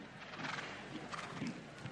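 Show-jumping horse at a Monaco Global Champions Tour Grand Prix moving across the arena, faint hoof thuds and soft snorting heard at a distance over a low crowd murmur.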